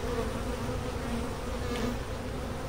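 A dense, continuous buzzing of many honey bees from a weak nucleus colony, close and steady with no voices.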